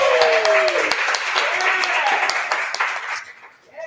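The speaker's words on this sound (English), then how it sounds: "Y'all, big round of applause to the beautiful Jayla." An audience claps and cheers for a young woman called up to the microphone at a university event. The dense applause holds steady, with voices calling out through it, then drops away near the end.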